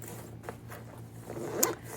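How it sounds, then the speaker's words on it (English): A zipper closing an expandable cooler duffle bag, heard in short tugs with soft rustling of the fabric and a sharper zip near the end, close and quiet with no talk. "Zip a little bit, tuck a little bit."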